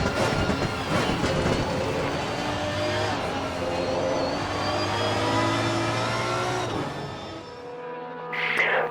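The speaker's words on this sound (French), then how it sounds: "On profite de ce bruit du V12 pendant cette belle ligne droite de Kemmel." A loud, high-revving V12 race car engine in a sim racing game roars steadily down the Kemmel straight with sustained harmonic whine, its tone fading near the end before a brief burst of noise.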